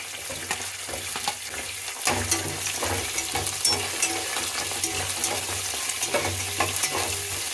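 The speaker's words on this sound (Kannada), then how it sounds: "ಕರಿಬೇವು ಸ್ವಲ್ಪ ಫ್ರೈ ಆದ ತಕ್ಷಣ ಈರುಳ್ಳಿ ಹಾಕ್ಕೊಳ್ಳಿ." Curry leaves and onions frying in hot oil for vegetable pulao, a steady close sizzle with stirring scrapes that grows louder about two seconds in, and no talking.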